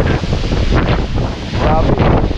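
Strong typhoon wind and rain batter the microphone with a loud, continuous, gusting roar that surges and dips through the brief stretch.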